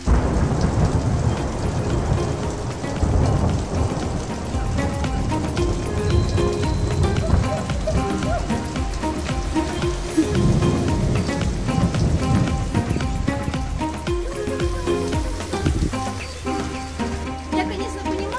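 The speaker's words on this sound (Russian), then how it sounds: "И тут у нас пошел дождь." Steady rain falls in an old village in Portugal, with thunder rumbling and booming through it for the whole stretch, loud and close, with continuous drops hitting nearby surfaces.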